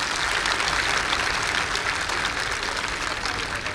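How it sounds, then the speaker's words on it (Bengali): Audience applause at a Tejashwini 2022 event, a dense, steady wash of many hands clapping that holds at an even, fairly loud level throughout, with no speech over it. "আমরা সকলে মিলে একটা জোরে হাততালি দিই"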